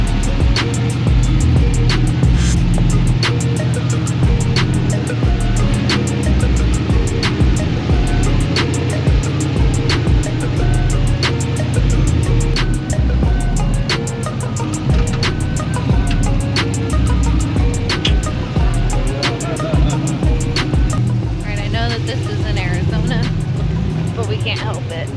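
A friend's off-road rig at the 2022 King of the Hammers, driven by a woman, with a steady engine drone and rumble through the whole stretch, while people talk nearby over the motor.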